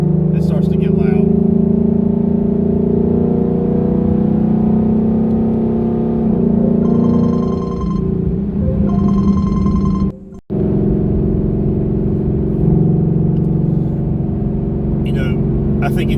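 A car fitted with catless longtube headers drones with a loud, steady exhaust note that rises and falls with the revs. A person talks over it, and the engine noise cuts out briefly partway through.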